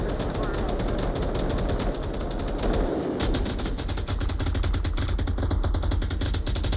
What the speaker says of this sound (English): Lots of 249 rounds coming out on these windows.